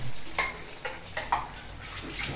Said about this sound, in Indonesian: Goreng di minyak panas.